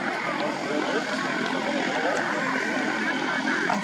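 A display aircraft taxis past the crowd at the Midlands Air Festival, its propeller engine a steady, loud drone that holds throughout while a commentator talks over it.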